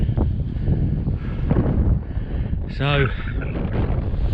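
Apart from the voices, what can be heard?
wind blowing on an open moor hilltop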